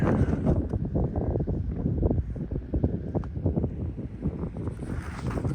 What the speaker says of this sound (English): Yep, that wind is got a little bite to it.